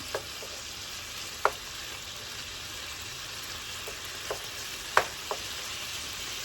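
Shrimp seasoned with Old Bay sizzling in a pan: a steady, close hiss of frying with a few sharp pops and clicks scattered throughout, no talking.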